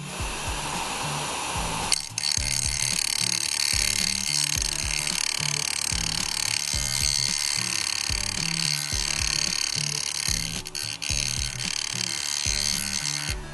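Carving chisel ground on a 120 grit JOOLTOOL sharpening system, a steady whirring abrasive hiss with a low rhythmic motor pulse throughout, close and continuous, with brief scraping shifts as the edge is repositioned.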